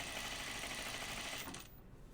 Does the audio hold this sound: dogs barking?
no